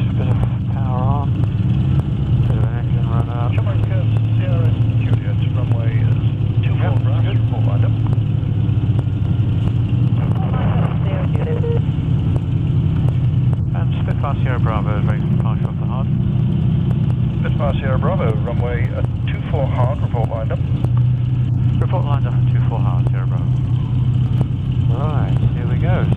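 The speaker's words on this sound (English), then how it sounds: "Bit of power on, bit of an engine run up." A Spitfire aircraft's engine runs up, giving a steady loud rumbling drone throughout, with people talking over it.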